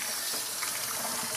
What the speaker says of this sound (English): We gotta rinse it off completely.